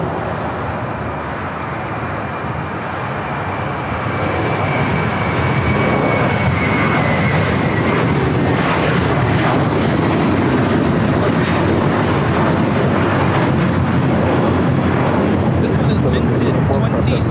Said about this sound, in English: the A321 delivered in 2016, taking off to JFK, JetBlue 224.